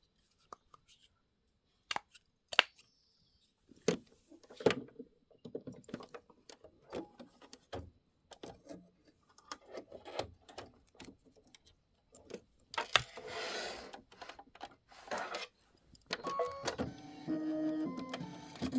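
An embroidery machine stitches out a Kimberbell quilt tile, giving quiet irregular clicks and taps with short mechanical whirring bursts, fairly close and soft, with no talk.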